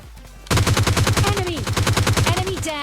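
Rapid automatic gunfire from the PUBG Lite battle royale game, a loud sustained burst of evenly spaced shots with faint ringing tones between them, under a brief voice.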